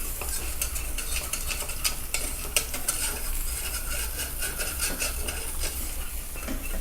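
A whisk beating a flour mixture for beer cheese in a pan, a close, busy scraping and clicking of metal on the pan that runs steadily throughout with no voice.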